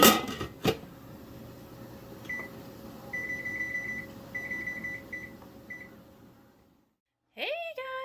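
A kitchen timer is set during strawberry butter canning, giving a short series of clear electronic beeps over steady background hum, with clatter at the start and a voice at the end.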